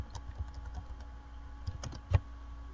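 Typing on a computer keyboard while entering an order, a loose run of close key taps with uneven gaps and one sharper, louder keystroke near the end, no voices.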